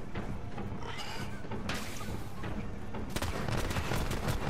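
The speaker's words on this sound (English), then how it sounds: "I'm finding these exploding bullets to be a good option." Exploding-bullet gunfire in Borderlands 3 sounds as a dense, continuous crackle of rapid shots and small blasts, growing heavier near the end of a busy, noisy combat scene.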